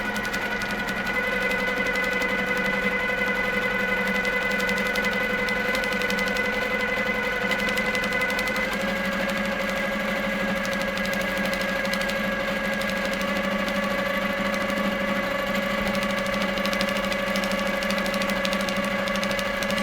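A quilting machine stitching out a blue wren design runs in a steady, even mechanical hum with rapid needle chatter, continuous and close with one slight shift in pitch midway, and no talking.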